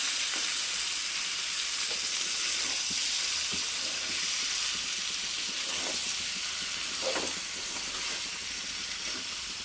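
Fish pieces for a Telugu curry fry in a pan with a steady, even sizzle, while a spatula gently stirs them in a few soft, scattered scrapes. There is no talk.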